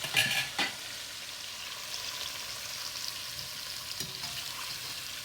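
Onion, scallion, thyme and garlic stir-fry in a hot pan, a steady close sizzle with a couple of sharp clatters of a utensil at the start and softer scraping strokes later.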